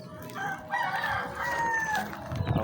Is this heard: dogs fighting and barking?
no